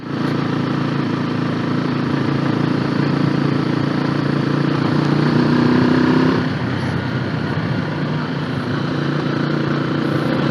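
An old Honda CBR motorcycle on stock exhaust riding along a rural road, a steady droning engine note under wind rush that drops in pitch and level about two-thirds through, as if easing off the throttle.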